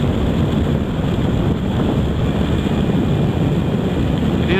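A BMW RS1200 motorcycle engine runs on a test ride as a steady, loud low rumble mixed with rushing wind noise, continuous throughout, with no talking.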